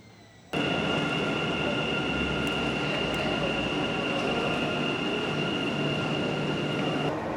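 Dubai Metro train running at the UAE Exchange end of the line, a steady loud rumble with a high sustained tonal whine holding throughout, close and continuous with no talk.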